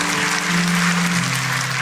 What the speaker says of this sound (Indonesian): kasih tepuk tangan untuk Roh Kudus